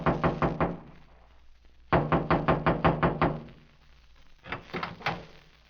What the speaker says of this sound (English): I walked through the clearing and knocked on the door.